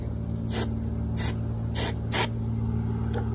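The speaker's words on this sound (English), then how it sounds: "Spray paint, whatever this is." Four short hissing bursts of spray from an aerosol spray paint can, spaced about half a second apart, then a faint fifth puff, over a steady low hum.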